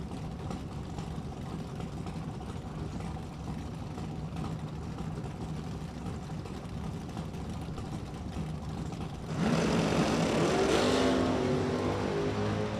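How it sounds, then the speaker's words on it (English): A drag racing car at an ACE Ohio Events Summit Summer Slam drag race rumbles and idles at moderate distance, then launches into a giant wheelie with a sudden loud full-throttle roar near the end. "Dada's going to try to do a giant wheelie and chase him down and land on a 608."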